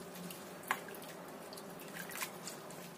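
Boiled rice vermicelli drains in a kitchen with faint, scattered drips and small wet splashes over a low, steady background.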